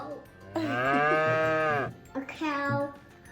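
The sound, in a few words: cow mooing sound effect from animal Jenga toy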